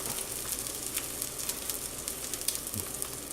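An egg frying in a pan, a steady close sizzle with small crackles and pops running throughout, nobody talking.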